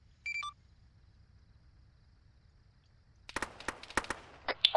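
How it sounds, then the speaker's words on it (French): Gunfire in the video game Arma 3 Altis Life during an attack on a rebel camp: after a short electronic beep and a long quiet stretch, a burst of sharp, loud shots arrives in irregular succession near the end. "Coup de feu."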